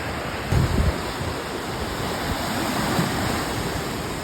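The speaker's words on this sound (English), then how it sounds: "I can already hear the waves." Large waves crash on the Lake Superior shore, a dense continuous roar of surf with a stronger surge early on and no talk.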